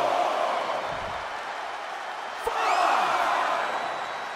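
Arena crowd in the WWE 2K23 game cheering through a Last Woman Standing match, a steady roar of many voices that swells after a sharp thud from the ring.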